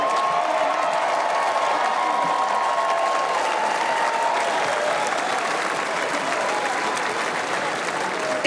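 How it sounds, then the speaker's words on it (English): A large convention crowd claps and cheers in a loud, sustained wash of applause, with a few scattered shouts rising above it. "getting a lot of applause here"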